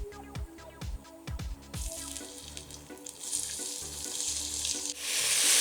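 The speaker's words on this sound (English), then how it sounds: "now that our oil is nice and hot, I will add the onions first" Onions hitting hot olive oil in a pan, with a few sharp clatters and knocks of utensils before a loud, steady sizzle builds and swells near the close, no talking.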